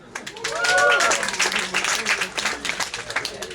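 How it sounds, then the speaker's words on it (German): Audience applauding the lighting technician at a rock band interview event, clapping that swells then thins out, with talking voices over the top. "Auch für ihn mal einen Applaus, ja?"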